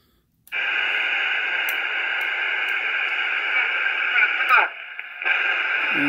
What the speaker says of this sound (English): Let's hear somebody on 22.